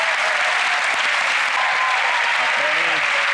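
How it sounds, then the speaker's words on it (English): Studio audience applauding a volunteer named Kenny on a magic show stage, a thick continuous wash of clapping with a voice faintly audible beneath. "Give Kenny a round of applause"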